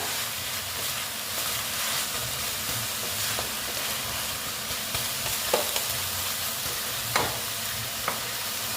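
Red amaranth greens cooking in a pan on a gas stove give a steady, close sizzle and hiss throughout, with a few sharper scraping stir sounds standing out near the end.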